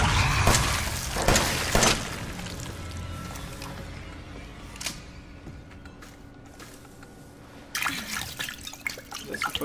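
Holy water is splashed in Resident Evil 7, a series of wet sploshes and crackling bursts at the start, quieter liquid rustling through the middle, then another louder spattering burst near the end.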